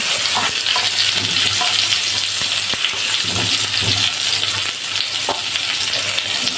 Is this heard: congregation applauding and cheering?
no